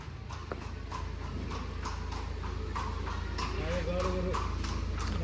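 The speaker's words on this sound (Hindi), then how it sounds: "जब नाल लग जाती है तो घोड़ा खुल के भागता है, घोड़ी हो या घोड़ा हो" A mare's freshly shod hooves clip-clop in a quick, steady rhythm as she runs, each strike sharp and close over a constant low rumble.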